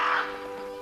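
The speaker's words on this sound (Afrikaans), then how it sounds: "Dit was nie arend nie, 'n raaf" A raven gives one short, harsh caw at moderate distance over a low steady hum.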